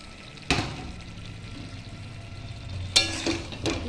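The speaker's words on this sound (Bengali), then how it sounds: "এর মধ্যে এখন আমি দিয়ে দিচ্ছি ভেজে রাখা আলুগুলো।" Fried potatoes tipped into a pan of cooked-down spices for a vegetarian aloo dum, with a soft sizzle and a few sharp scraping clatters as they are stirred in.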